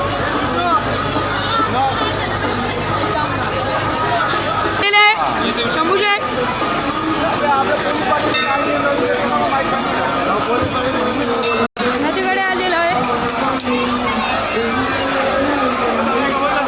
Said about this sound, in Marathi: इथे खूप गर्दी आहे